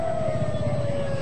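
An ambulance siren wails steadily and loudly at an explosion scene near a police post at the Sarinah Thamrin intersection in Jakarta, a continuous wavering tone over low traffic rumble.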